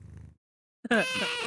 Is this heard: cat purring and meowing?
yes